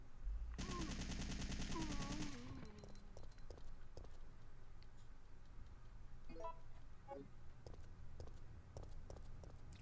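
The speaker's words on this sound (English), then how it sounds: "Got the assault rifle of doom here." Rapid automatic assault rifle fire in Resident Evil 3: Nemesis on PS1, a dense burst for the first couple of seconds, then scattered single shots and game effects continue at a lower level with no talking.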